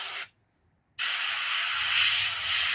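An airbrush sprays paint through a stencil onto a striped bass fishing lure. It gives a short burst of close, bright hiss, stops briefly, then starts again as a steady, even spray.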